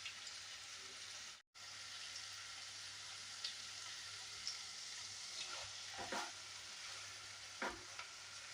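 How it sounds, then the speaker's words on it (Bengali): A large chopped onion fries in oil seasoned with cardamom and cinnamon for prawn pulao, giving a steady close sizzle with a few soft stirring scrapes. There is no talk. "একটা বড় পেঁয়াজ কেটে রেখেছি, সেটা ভাজবো"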